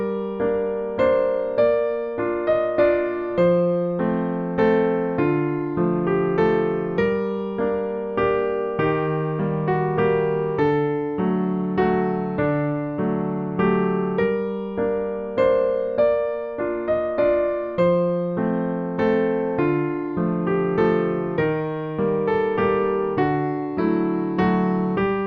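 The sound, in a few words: piano playing the Greensleeves melody, first part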